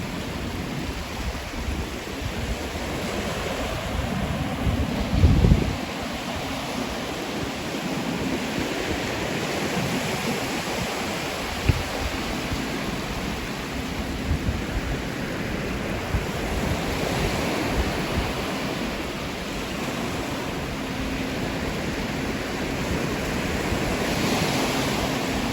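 Surf rolls in continuously on the Kice Island shell beach, a steady wash of breaking waves with wind buffeting the microphone and a brief louder gust near the start.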